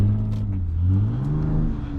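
A Lexus IS250 drives through snow in a snowstorm, its engine droning and rising in pitch as it revs briefly, heard from inside the car.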